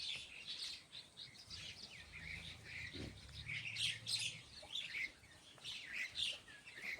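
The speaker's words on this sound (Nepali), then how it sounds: "चराहरू टन्नै बसेछ अहिले" Many birds, parrots among them, chirp and tweet in a fruiting mulberry tree on a clear day after two days of rain. Overlapping calls come and go softly at a moderate distance.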